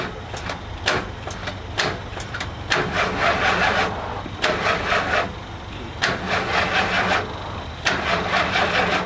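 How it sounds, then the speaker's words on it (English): An RV engine with a failing starter cranks repeatedly in uneven bursts, the starter whirring and grinding several times without the motor catching, with short pauses between attempts. "Now it sounds like maybe the starter's going out."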